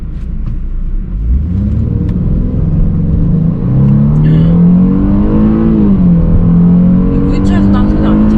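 A Mercedes E350 4Matic with a direct-injection engine of about 300 hp accelerates at full throttle, its engine note rising steadily into a loud, continuous rumbling drone with a broad whoosh, while voices murmur inside the car.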